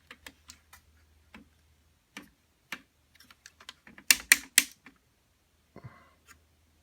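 Ratchet joints on a TFC Toys Poseidon figure click in short sharp bursts, scattered single ticks then a rapid cluster of louder snaps, close and dry, with no talking.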